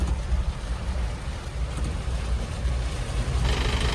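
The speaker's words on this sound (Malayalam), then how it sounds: "നല്ലൊരു മഴ കിട്ടിയേട്ടാ." Rain pouring steadily on a road near Fikkal on the way to Kathmandu, Nepal, a dense continuous hiss with low rumble underneath, fairly loud and unbroken, no voices.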